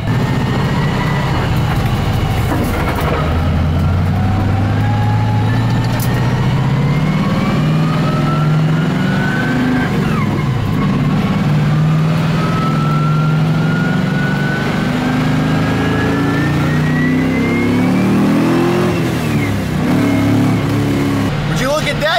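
A Nissan S13 drives after a wheel alignment, its engine droning steadily from inside the cabin with rising and falling revs as it accelerates through the gears for over twenty seconds.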